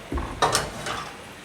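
Thai holy basil stir-fried in hot oil in a pan, with a brief scrape and clatter of a spatula against the pan over a soft sizzle.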